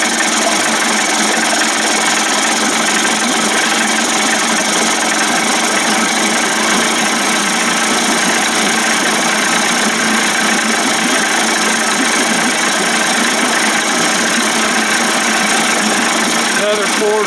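A 25 hp Johnson outboard motor, converted toward 30-35 hp, idling steadily and loudly up close for the whole stretch with a constant rough, knocking drone.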